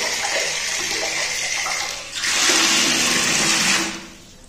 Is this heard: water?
yes